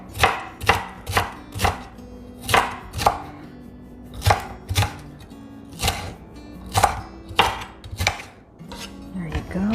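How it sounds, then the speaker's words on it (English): A large knife slices vegetables thin for coleslaw, each stroke landing as a sharp thud on a cutting board, about a dozen cuts in a loose, steady rhythm, close and clear. "now let's cut them nice and thin. Let's use the bigger knife."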